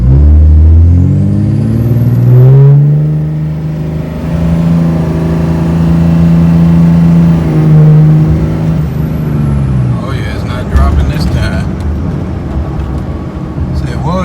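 A car engine revs hard and accelerates with a rising, sustained roar, then cuts out abruptly around 3,000 RPM; after about ten seconds the tone turns rougher and broken, with a brief voice under the engine noise.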